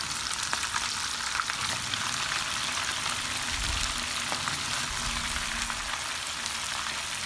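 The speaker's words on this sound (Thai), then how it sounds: "ใส่น้ำมันลงไปน้ำมันร้อน ใส่ซี่โครงลงไปค่ะ" Pork ribs fry in hot oil in a home kitchen with a steady, dense sizzle and crackle that runs throughout without speech.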